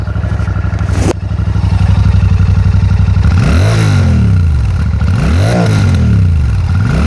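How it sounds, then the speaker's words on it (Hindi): Royal Enfield Classic 650 twin-cylinder engine with dual exhausts, loud and close: a steady rumbling idle, then a burst of hard revs that rise and fall three times in succession. "ये था इसका एग्जॉस्ट, और मेरे को इस ट्विन सिलेंडर का एग्जॉस्ट बहुत ज़्यादा पसंद है"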